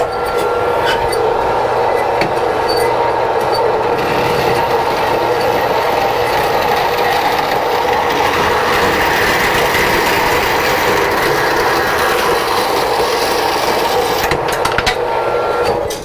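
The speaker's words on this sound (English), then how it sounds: "I'm going to just make this cut on the bandsaw real quick" A bandsaw cuts a wooden barrel part in a workshop, with a loud, steady whine and rasp of the blade through the wood, continuous and close for the whole stretch.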